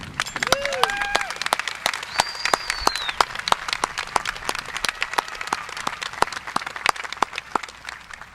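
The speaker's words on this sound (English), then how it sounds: "So please join me in giving them the biggest round of applause that we can." A high school graduation crowd claps for the graduating class, dense applause with sharp nearby hand claps punctuating it, plus whoops and cheers rising over the clapping early on before it thins and fades.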